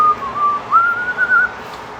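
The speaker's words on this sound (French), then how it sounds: "Je siffle mal." A person whistles a wavering, somewhat shaky tune, a single thin tone that gliding up and down in short phrases, close and clear with no talking.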